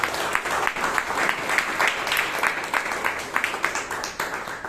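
Audience at a Toastmasters meeting in Bangalore breaking into applause, a dense, steady wash of many hands clapping in a room, fairly close and continuing throughout without talk.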